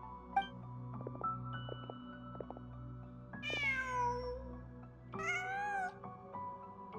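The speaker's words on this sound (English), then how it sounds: "Just a cat." Two drawn-out, rising-and-falling cat meows in the video game Genshin Impact, each about a second long, standing out clearly over a steady, humming game soundtrack.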